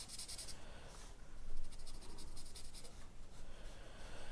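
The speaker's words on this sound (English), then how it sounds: "I'm going to use the brush point" Brush-point tip of a Decotime aqua marker stroking across paper, a soft, close scratchy rubbing in repeated short strokes, quiet and continuous with no speech.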